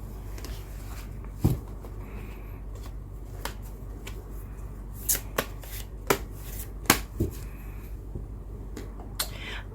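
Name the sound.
shuffling tarot cards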